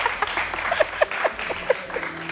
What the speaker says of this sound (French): Et applaudissez pour ça.